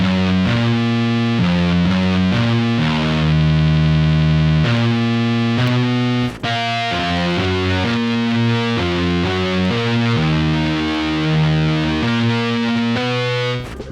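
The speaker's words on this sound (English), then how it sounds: "I've remade this guitar riff using the Metal Lead guitar preset in Logic Pro" Heavily distorted electric guitar riff built from a Metal Lead preset, chords layered across three octaves with chorus and reverb, playing continuous sustained chord changes at steady loud level with one brief break midway.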